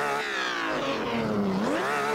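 A 1962 Ferrari 250 GTO in Assetto Corsa is heard from behind, its engine droning loud and continuous with the pitch dipping and then climbing again.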